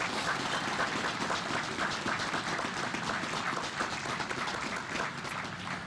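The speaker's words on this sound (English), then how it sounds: "How about a round of applause for our Navy?" Crowd applauding at an outdoor Navy warship commissioning ceremony in Milwaukee, a moderately faint, steady wash of clapping heard from some distance.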